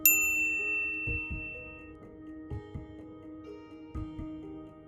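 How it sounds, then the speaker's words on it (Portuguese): A bright notification bell dings once, sharp and close, then rings out in a long shimmering decay with no talk. "ativar o sininho para receber as notificações dos nossos"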